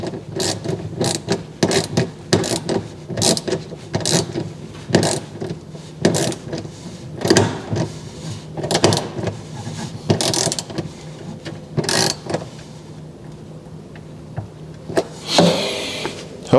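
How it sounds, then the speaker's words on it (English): A screw is driven tight on a KitchenAid KUIX335HPS01 icemaker, giving a run of sharp mechanical ratcheting clicks in irregular bursts over about fifteen seconds, close and fairly loud. "I'll just tighten the screw."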